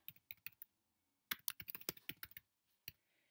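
Computer keyboard typing while entering text in a Photoshop text tool: a few quick keystrokes, a pause, then a denser burst of clicky, close key presses, one last tap after it.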